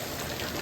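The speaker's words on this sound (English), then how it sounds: "this is just the start of it raining" Rain beginning to fall outdoors near a house with gutters, a steady broadband patter of drops on surfaces, continuous and fairly quiet with no voices.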